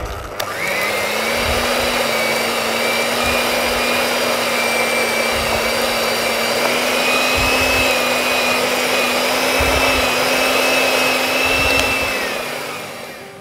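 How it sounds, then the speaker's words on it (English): An electric whisk creams butter and sugar for a Victoria sponge, a steady high-pitched motor whine running continuously and fairly loud, with faint irregular knocks of the beaters against the bowl. "Now this needs to be creamed together, and I find the easiest thing is to use an electric whisk."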